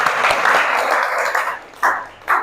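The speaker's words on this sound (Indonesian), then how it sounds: "Oke, tepuk tangan untuk kita hari ini." A classroom of students claps together loudly and close, a dense burst of applause that thins out into a few rhythmic sharp group claps at the end.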